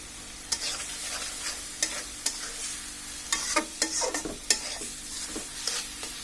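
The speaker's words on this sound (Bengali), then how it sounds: "এটাকে ভালোভাবে কষিয়ে নিতে হবে।" Dal being stir-fried and worked in a pan for bhuna dal, with a low steady sizzle broken by scattered scraping clicks of a spoon against the pan, close by and with no voices.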